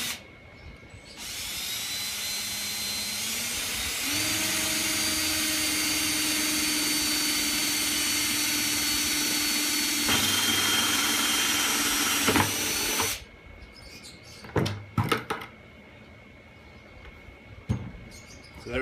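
A power drill bores a hole near the bottom of a plastic bucket for drip irrigation, whining steadily for about twelve seconds with a pitch rise as it bites, then stopping, followed by a few short handling knocks.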